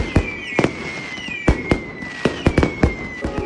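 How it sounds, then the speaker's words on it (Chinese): Fireworks launched into the sky at night, a string of sharp booming bursts in irregular rhythm, some crackling, with a faint whistling tone trailing between the bangs, no voices. "在等漫天的烟花放起来的时候"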